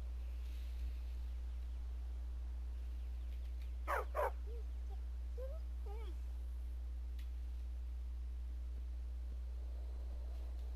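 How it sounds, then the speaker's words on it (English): A stray dog in Skyrim lets out a couple of short close barks over a steady low hum and quiet background hiss, otherwise still. "Oh, it's a dog. Stray dog."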